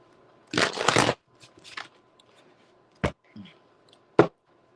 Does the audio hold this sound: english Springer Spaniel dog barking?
no